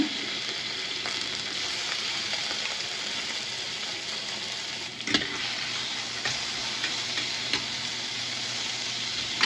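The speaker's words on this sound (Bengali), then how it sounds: "জাস্ট একটু সটে করে নেব" Prawns and garlic sautéing in a pan for a noodle dish: a continuous even sizzle with occasional spatula knocks, one sharper clatter midway, steady and close with no talking.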